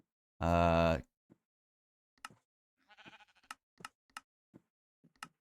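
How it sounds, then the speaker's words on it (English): A Minecraft sheep gives one loud, clear bleat, followed by sparse game clicks and a short burst of other in-game sound. "we can literally run up to a sheep and right-click the sheep"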